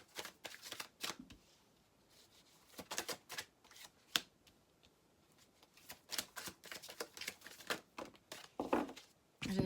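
Persian tarot cards being shuffled by hand, a close, dry run of riffling and sliding card sounds in irregular bursts with short pauses, no talking.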